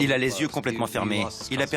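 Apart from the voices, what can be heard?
No everyday noise stands out behind the speech.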